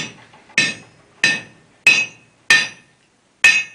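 Five sharp metallic hammer blows ring out on an anvil as a blacksmith heads a hand-forged nail in the pressure hole at the anvil's heel, struck at a steady, deliberate rhythm, close and loud, with brief ringing decay between strikes.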